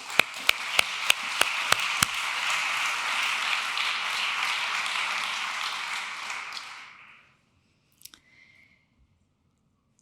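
Audience applause at a Geneva award ceremony: a few loud, spaced claps open the clip, then a full round of clapping holds for several seconds and fades into near silence, with a brief faint sound afterward.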